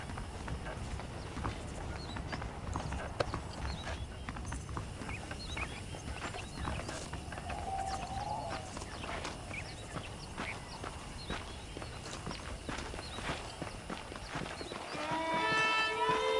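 Horse hooves clip-clop steadily across the ground in Red Dead Redemption, heard up close on a ranch in the Armadillo area, with a continuous rhythmic beat under a low ambient game backdrop and a brief musical swell near the end.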